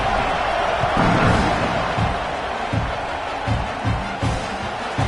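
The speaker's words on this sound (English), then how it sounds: "this crowd is buzzing after that last score" A college football stadium crowd at an Oklahoma versus Florida game roars after a touchdown, a broad sustained buzz with swelling cheers and scattered whoops and thumps, filling the space without clear speech.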